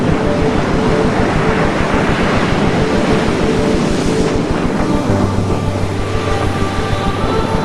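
Waves and wind at sea around a sailing vessel in the stormy South Atlantic, a dense continuous wash of water and gusts with a low steady hum rising partway through.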